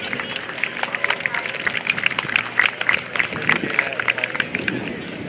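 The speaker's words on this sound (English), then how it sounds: "how about a huge round of applause for Tom Larkin and the Mini Jet" Airshow crowd at JBSA Randolph applauding Tom Larkin's Mini Jet after its landing: steady, moderately distant clapping with a murmur of voices, continuing without a break.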